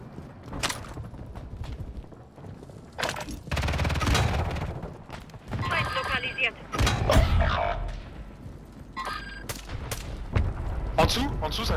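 Gunfire in the video game Call of Duty comes as rapid bursts of automatic shots and sharp single cracks with booming hits, loud and irregular, while a player talks over the action.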